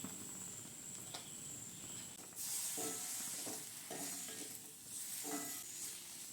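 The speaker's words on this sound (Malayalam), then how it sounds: "ഇനി ഇതിൻ്റെ പച്ചമണം മാറുന്നത് വരെ ഇത് ഒന്ന് വറുത്തെടുക്കാം." Masala spices for mushroom masala sizzle and fry in a hot pan while a spoon scrapes and stirs in several bursts, close and steady with no talking.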